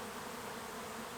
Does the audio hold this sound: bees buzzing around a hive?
yes